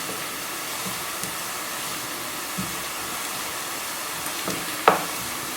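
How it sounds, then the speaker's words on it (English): Cumin seeds frying in hot oil for aloo palak, a steady soft sizzle with a few small pops and one sharper crackle near the end, heard alone. "now I'm going to add cumin seeds. Gonna fry for about 1 minute or so."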